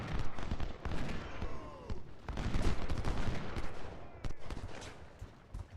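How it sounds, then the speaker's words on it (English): Cannons and rifles boom and crackle in the Civil War battle game Ultimate General: Civil War, with heavy irregular volleys and scattered shots rolling close together across the whole stretch. "Wounded Union soldiers and cannons being fired."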